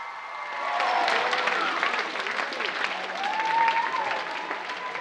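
Audience applause welcoming director Lee Hirsch at an anti-bullying summit, a steady wash of many hands clapping that swells and holds, with scattered cheers and a faint voice over it.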